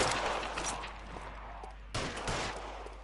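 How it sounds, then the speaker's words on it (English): Gunfire from the L.A. Noire video game: a dull burst of shots, then a sharper second volley near the end, over a constant noisy background with no speech. "Sabo, stop or I will shoot"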